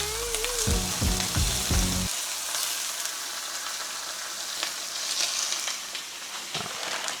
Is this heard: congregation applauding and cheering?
no